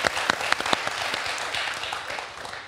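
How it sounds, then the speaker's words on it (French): Studio audience of a French TV quiz show breaks into applause after a correct answer, a burst of sharp claps that starts strong and gradually tapers off. "Oh, ça s'applaudit."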